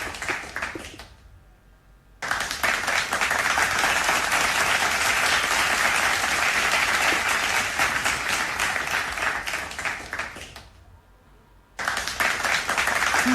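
Loud, dense applause and cheering from a school crowd as the houses march past, sustained for about eight seconds, with quieter gaps at the start and end before the clapping swells again.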